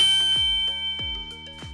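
A bright bell-ding sound effect plays several quick metallic dings in a row, each ringing briefly before the next. The dings are clear and close, with no voices.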